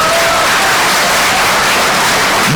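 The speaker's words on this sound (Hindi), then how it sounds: "पूरा सदन एक बार जोरदार ताली बजाओ" At a Hindi comedy poetry gathering in Moradabad, a hall audience applauds loudly and continuously, a dense wash of clapping with some crowd noise throughout.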